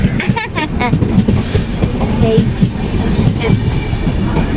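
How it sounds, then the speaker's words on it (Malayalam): A train rolls in with rumbling wheels and rhythmic clacking, loud and close, with some squealing and background voices. "നമ്മുടെ ട്രെയിൻ വന്നു ഗൈസ്"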